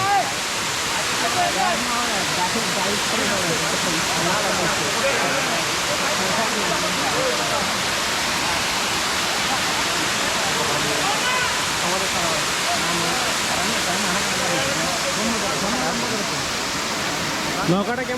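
A waterfall roars in a loud, steady rush that never lets up, with faint voices underneath.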